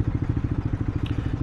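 A motorcycle with a Villain aftermarket exhaust pipe idles close up, with a rapid, loud, pulsing burble in a steady rhythm.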